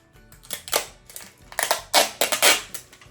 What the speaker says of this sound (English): you get a piece of your Scotch tape out